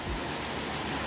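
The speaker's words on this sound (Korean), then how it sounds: "위에 있네요. 육담폭포." Yukdam waterfall in Seoraksan, Korea, a roaring cascade more than 40 metres high, gives a dense, steady wash of falling water, loud and unbroken throughout.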